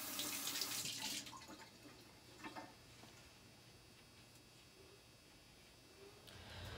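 Kitchen tap water running over the top of a can of mandarin oranges, a strong splashing rush at first that drops to a faint trickle and then rises again near the end.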